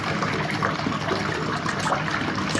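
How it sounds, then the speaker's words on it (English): Water rushing through the suction tube of a homemade electric dredge, a steady close-up gushing and churning flow that runs without a break and with no voices. "That is a decent amount of water being moved."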